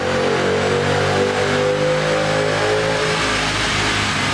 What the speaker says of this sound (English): why don't we get the car over to the dyno one more time